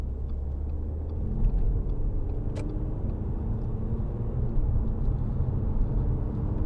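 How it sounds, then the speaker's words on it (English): A 2014 Audi A4 Avant 2.0 TDI Quattro with an S tronic gearbox rounds a roundabout, heard as a steady, muffled low rumble of road and engine noise, as if from inside the car. "The way these Quattros go around roundabouts are just fabulous."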